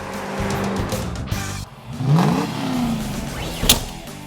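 A 1970 Camaro RS/SS with a 396 big block engine in its original race setup roars loudly up close. The engine revs and rises in pitch, then settles back into a heavy rumble, with no voices over it.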